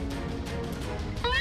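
A short cat meow in a horror video game featuring CatNap, rising near the end of the moment over a busy game soundtrack.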